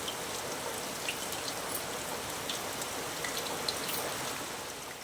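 Dense, even patter of heavy rain falling on a surface, a steady hiss of countless drops with no voices.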